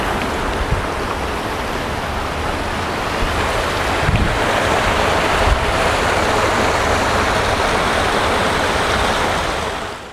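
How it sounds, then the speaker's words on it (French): Water from a garden waterfall cascades down a slope into a pond, a steady broadband rush of splashing and churning that stays loud and continuous throughout, with no voices. "L'eau poursuit son chemin en dévalant la pente jusqu'en bas dans le bassin."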